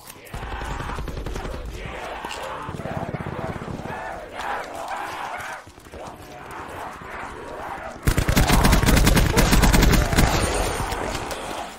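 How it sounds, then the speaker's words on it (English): Rapid gunfire rattles in Black Ops 4 Blackout as zombies are shot, with dense bursts of automatic shots. A heavier, louder volley comes in the second half, and a player talks over it. "No, I was shooting at zombies."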